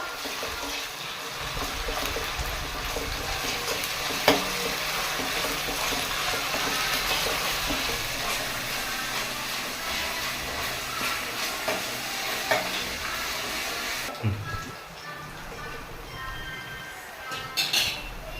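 Ginger garlic paste frying in a pan for a fish curry makes a dense, even sizzle that goes on for some time, with occasional stirring knocks, then cuts off sharply near the end, leaving quieter clatter.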